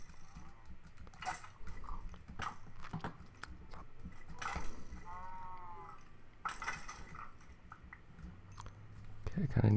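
A Minecraft player character eats food in the game: a run of short crunchy munching bursts, with sheep-like bleats from farm animals nearby.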